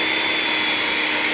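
Ryobi electric pressure washer running: a loud, steady, broadband hiss and whine, continuous and close for the whole short stretch, with no voices over it.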